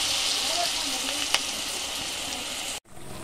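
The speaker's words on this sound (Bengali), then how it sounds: "একটা একটা করে এভাবে আমি ভেজে নেব" Cauliflower pakoras deep-frying one by one in hot oil, giving a close, continuous sizzling hiss with a faint pop, under a voice speaking, before a brief cut and quieter sizzling.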